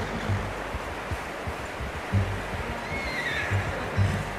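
A horse neighs in the Red Dead Redemption 2 video game over a steady outdoor ambience with running water, and a few faint low whinnying bursts are spread through the scene.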